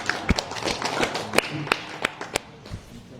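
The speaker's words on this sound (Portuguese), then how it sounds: "Salva de palmas" Scattered claps from an audience at a morning Harikatha talk in Manila, a few sharp hand claps spread over a few seconds rather than a full sustained ovation.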